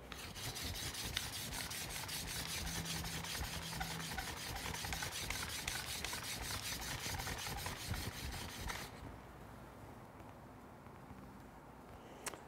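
A card scraper edge rasps back and forth against a block in quick, even strokes, a steady scraping for about nine seconds that then eases to a quieter rub.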